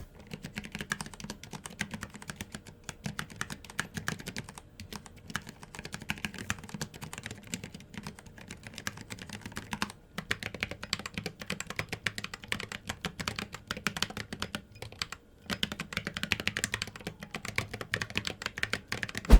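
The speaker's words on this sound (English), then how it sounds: "You would expect them to sound metallic, but the sound is really muted and deep, even compared to normal PBT double shot keycaps." Typing on a keyboard fitted with metal keycaps produces a steady stream of quiet, muted, deep clacks at a brisk pace, with no voices.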